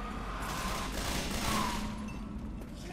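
Shotgun in the zombie co-op game Left 4 Dead 2 blasts in rapid succession, a dense, continuous volley of booming shots over a noisy background.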